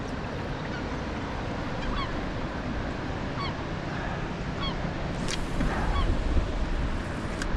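Geese honking near the water where fishermen cast for striped bass, scattered short honks at a moderate distance over a steady wash of wind and surf.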